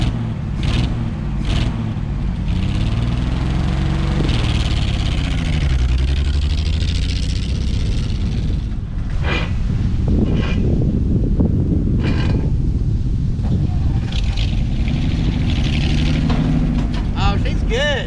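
An abandoned 1964 Ford F100 old farm truck engine with a carburetor needing cleaning runs steadily close by, rising and falling through several revs, while someone talks over it.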